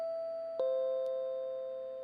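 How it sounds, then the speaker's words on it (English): A doorbell in the video game Chasing Tails chimes with a clear, sustained ding-dong, the second note striking just over half a second in and ringing out to the end. "Someone's ringing my doorbell."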